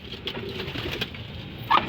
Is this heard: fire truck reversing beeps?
no